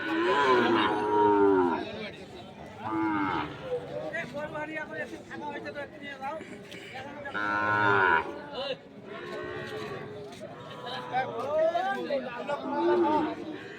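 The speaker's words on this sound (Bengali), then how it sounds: "আজকে আমবাড়িহাটের যে সাইবল জাতের বাছুর গরুগুলো রয়েছে" Sahiwal breed bull calves moo repeatedly at a busy Bangladeshi cattle market, loud drawn-out calls rising over steady crowd chatter and people talking nearby.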